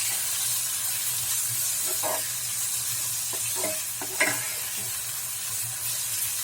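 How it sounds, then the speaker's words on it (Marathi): Onion and tomato sizzle steadily while being sautéed in a pan, a continuous close frying hiss with occasional scraping and clinks of a spoon stirring. "चांगला परतून घ्यायचंय आहे"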